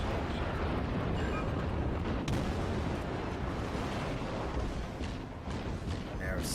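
Naval guns firing from a Russian destroyer in World of Warships, heavy booming salvos over a continuous roar of battle, with voices talking.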